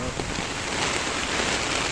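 A steady, dense hiss of heavy typhoon rain pouring down on a Manila street, constant and enveloping, with strong wind mixed in.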